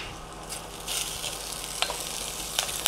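Onions fry in a pan with a soft continuous sizzle, broken by a few brief clatters and taps as pieces are stirred or dropped in, close and moderately quiet.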